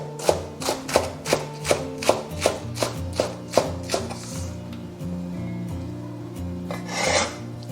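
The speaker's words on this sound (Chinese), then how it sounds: "再准备一把这种小葱，给它切成葱花。" A knife chops spring onions into small scallion pieces on a board, with a steady run of about a dozen sharp, close chops followed by quieter scraping and shuffling, with no talking.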